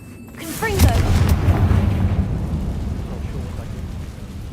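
The Confringo fire spell goes off in the Hogwarts Legacy video game as a deep booming blast that rumbles and decays over several seconds, with a brief whooshing cast at the start.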